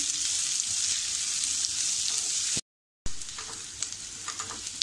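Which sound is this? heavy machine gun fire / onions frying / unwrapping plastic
onions frying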